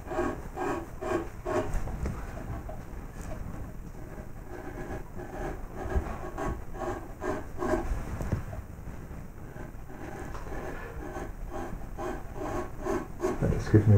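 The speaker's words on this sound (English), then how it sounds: "I'd use a flat gouge like this, and I'd just take off some of that corner here like this." A flat gouge shaves the corner of a wooden gadroon moulding, giving a continuous rasping, scraping rub with repeated strokes, close up and steady throughout.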